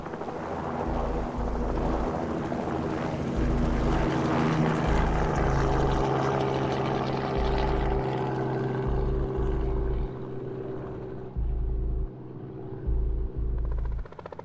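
A helicopter flies over industrial sites while surveying for methane leaks, its engine drone and rotor thrum steady and loud throughout, with a deep low pulsing and no talk.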